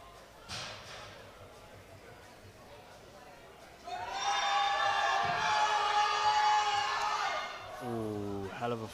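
A crowd at a British junior weightlifting championship in the 105 kg class, cheering and whooping to hype up a lifter; scattered shouts build into a sustained loud roar lasting several seconds, then settle, with a voice over the noise.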